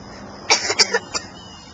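A short burst of four or five quick, dry coughs from a child, close and fairly loud, in a quiet setting.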